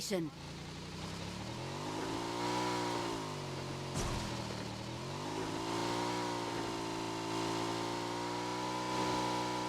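Motorcycle engine in PUBG Mobile on the Miramar map, a steady droning hum with rising and falling pitch as the bike rides along, continuous and fairly loud under ongoing voice chat.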